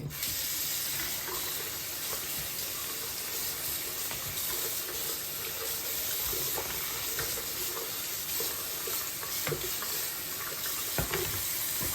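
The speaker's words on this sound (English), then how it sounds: "So first I'm just gonna give these a rinse real quick." Tap water runs into a sink as secondhand vintage clothing items and a bristle laundry brush are rinsed, a steady continuous broadband spray and splash that stays close and constant throughout with small clatters and no talk.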